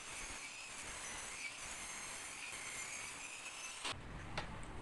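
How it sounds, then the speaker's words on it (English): A saw rips wood into thin strips for desk edging, producing a steady, close, whining drone that cuts off sharply near the end, followed by a brief knock. "I'm ripping this wood into thin pieces, which I will use to cover the edges of the top."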